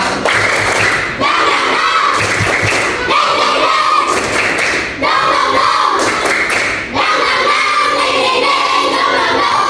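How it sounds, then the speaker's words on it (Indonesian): A school class does a rhythmic spirit clap, tepuk semangat, producing loud repeated patterns of clapping and thumping with children chanting and shouting together in a lively classroom. "Sebelum kita masuk pembelajaran, kita tepuk semangat."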